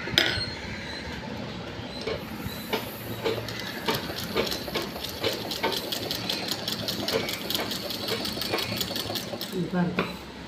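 A sewing machine runs in quick bursts of rapid rhythmic stitching while sewing a round pillow, close and fairly loud, with someone talking over it at times.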